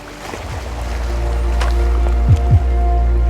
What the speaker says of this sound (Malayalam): ഒരു സ്പീഡ് ബോട്ട് പോകുന്നുണ്ടോ